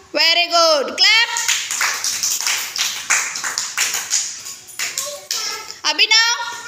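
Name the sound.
children clapping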